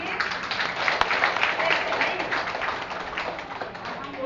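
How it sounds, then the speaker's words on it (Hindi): A group gathered for a satsang session claps hands together in a dense, mid-level patter of overlapping claps that continues throughout, with people talking in the background. "सभी ताली बजाएंगे।"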